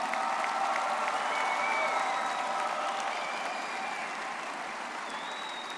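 A graduation ceremony audience applauding dental school degree candidates, a broad, steady wash of many hands clapping at moderate distance that tapers slightly toward the end, with faint voices and a few high tones woven in.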